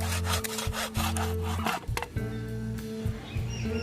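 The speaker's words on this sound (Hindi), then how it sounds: "तो मुझे इसे इधर से काटना होगा।" A handsaw cuts wooden legs for a homemade bicycle repair stand, with loud rasping strokes in a steady back-and-forth rhythm, close up and continuous.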